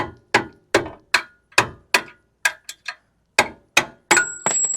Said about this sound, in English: you can grab like a pry bar or hammer or a punch, and then just tap the bolt out.